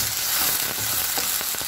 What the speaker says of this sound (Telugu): 1 tea spoon ginger garlic paste. పచ్చివాసన పోయే వరకు ఫ్రై చేసుకుందాం.